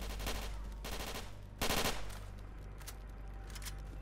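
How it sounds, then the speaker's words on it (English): Bursts of automatic gunfire in the S.T.A.L.K.E.R. Anomaly video game, rapid shots in uneven clusters with one loud, dense volley midway, heard alone without talk. "What the fuck are you shooting at?"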